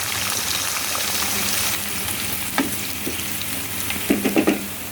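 Chopped onion fries in a pan for a chicken roast, with a continuous close hiss that eases slightly partway, then a short series of clinking spatula stirs near the end.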